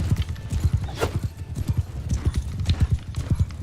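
Horses gallop in the medieval battle game Mount and Blade II: Bannerlord, with rapid rhythmic hoofbeats pounding steadily throughout and a brief whinny partway through.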